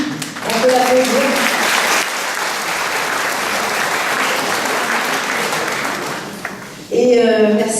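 An audience breaks into sustained, loud applause at a New Year greetings ceremony in La Faute-sur-Mer, with dense clapping filling the room before a voice returns over the fading tail.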